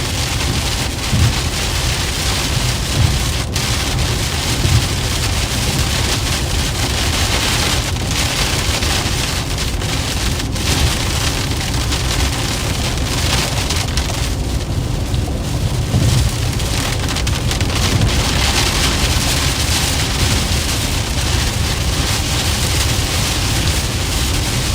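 Heavy rain pours steadily during a strong storm in Minnesota, a loud, dense hiss of drops on surfaces with low rumbles of thunder running underneath throughout.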